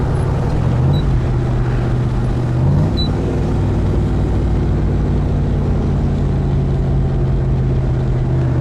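A 1965 Backdraft Cobra replica, a low-mileage car, drives steadily with a loud, close engine drone that rises slightly as it shifts around the third second, then holds an even cruising note throughout.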